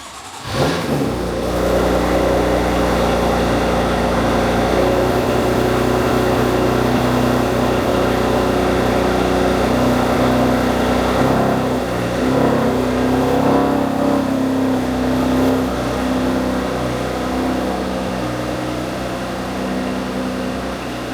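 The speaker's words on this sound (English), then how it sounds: "let's go ahead and get the car pulled out, get it centered in the garage" BMW F80 M3 engine running steadily as the car is pulled into a garage, a loud, continuous mid-range drone with slight swells in revs, heard alone without any talk.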